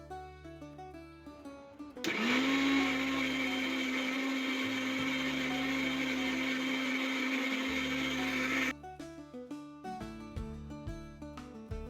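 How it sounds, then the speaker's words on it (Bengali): Blender grinds grated coconut and spices with a little water into a fine paste, a loud steady whirring roar lasting about seven seconds, framed by quieter background music before and after. "নারকেল কোড়া দিয়ে আমি একটু জল দেব জল দিয়ে একটা মিহি পেস্ট করে নেব"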